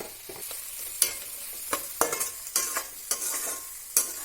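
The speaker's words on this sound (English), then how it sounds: "Mix it well and saute it for another minute." Gobi Manchurian with chili powder being sautéed in a pan, repeated sharp spatula scrapes and knocks over a soft steady sizzle, close and clear, no speech.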